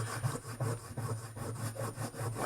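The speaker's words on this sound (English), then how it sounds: "start off with like a red compound, and I just rub that on the leather" Red polishing compound rubbed onto a leather strop in quick, steady back-and-forth strokes, a close, dry scratchy rasp repeating roughly every half second over a low hum, with no talking.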